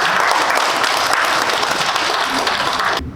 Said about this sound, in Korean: 자, 뜨거운 박수 부탁드립니다